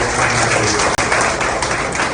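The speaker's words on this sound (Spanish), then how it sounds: "Una muy fuerte ofrenda de aplauso." A church congregation bursts into loud, continuous clapping with a brief dropout near the middle and no talk over it.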